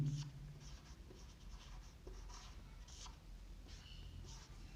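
Faint chalk or marker strokes on a board during a 12th-grade chemistry lesson, with soft scratchy writing marks in short bursts over a quiet room.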